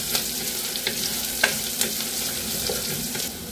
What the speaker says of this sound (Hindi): अदरक और लहसुन को थोड़ा सा हम भूनेंगे इसका कच्चापन खत्म होने तक